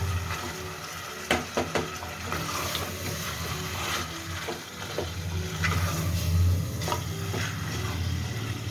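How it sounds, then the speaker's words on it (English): Onions being stirred into hot oil and meat in a pot for mutton korma, a continuous soft sizzle with scraping spoon strokes and occasional clinks against the pan, close and moderate in level. "Now add the onion and mix it nicely."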